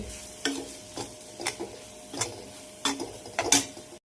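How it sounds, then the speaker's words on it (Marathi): A spoon scrapes and stirs through masala for a spicy dried fish chutney in a pan in quick, repeated strokes, with a faint sizzle underneath, close by and without talking. "आणि छान ह्याच्यामध्ये आता सर्व परतून घेते मी."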